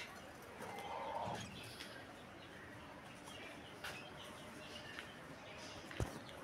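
Pigeons kept at home with chicks coo faintly in soft, low murmurs, with a few light knocks around them.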